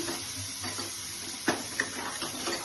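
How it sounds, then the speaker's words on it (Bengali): A little water is poured into a pan of cooking egg curry with cumin, chili and capsicum, giving a faint, soft splash and a couple of brief wet clicks over a low background hiss. "এভাবে দিয়ে আমি অল্প জল দিয়ে দিচ্ছি।"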